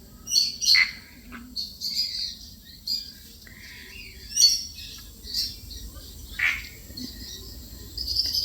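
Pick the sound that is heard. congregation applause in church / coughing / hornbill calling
hornbill calling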